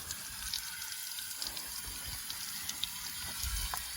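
A tap runs steadily into a sink during washing indoors, a soft continuous hiss and splash with a few faint knocks and bumps, fairly quiet and unaccompanied by talk.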